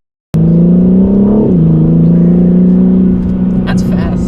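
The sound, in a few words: 2021 BMW M3 Competition accelerating hard in M mode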